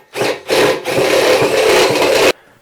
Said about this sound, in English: I then just need to drill that out to a slightly larger hole so that I can fit the appropriate size socket through.